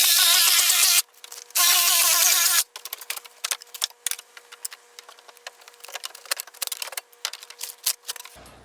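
Power tool cutting inside a loft between the rafters: two loud, steady bursts of cutting with a whining tone, then a long stretch of lighter scraping, clatter and rubbing. No one speaks.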